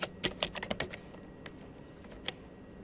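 Keys clatter on a computer keyboard as a search is typed, a quick burst of close, crisp clicks followed by a few sparse taps and a final sharp keystroke.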